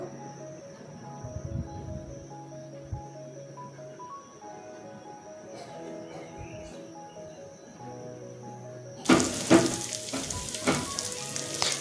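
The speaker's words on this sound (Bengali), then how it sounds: "এইগুলোকে আমি খুব ভালোভাবে একটু ভেজে নিয়ে" Pointed gourd (potol) pieces fry gently in a pan with tomato paste for potol korma, a soft sizzle under low kitchen hum, then louder stirring and scraping near the end.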